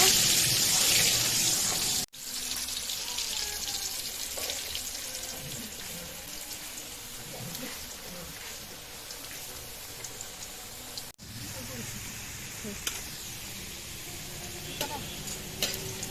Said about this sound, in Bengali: এবার এই আলু লাল লাল করে ভেজে নিব।